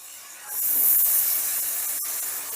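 Ground cabbage drops into sizzling spice paste in a pan for a Bengali cabbage bharta, setting off a rising hiss that holds steady, with a single light clink near the end.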